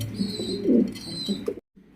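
Pigeons at a fancy pigeon farm give a few soft, throaty coos close by over faint chirps, then the sound cuts off abruptly before a quieter tail.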